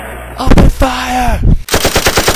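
A loud, rapid burst of machine-gun fire rattles off in an even, fast rhythm after a brief shouted voice.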